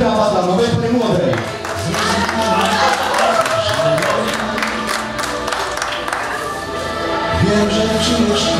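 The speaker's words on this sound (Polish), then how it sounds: "prosimy o ogromne brawa dla nowej pary młodej" Wedding reception guests applauding and cheering for the newlyweds, a dense crowd roar of clapping and whoops, loud and continuous throughout with voices mixed in.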